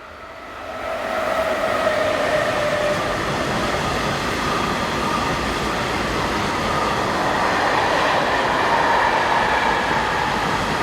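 A Class 193 electric locomotive hauls a long freight train of blue tank wagons south on the Northeim–Hannover main line in Germany, a loud, steady rumble with wheel noise and faint squealing sustained throughout the passing.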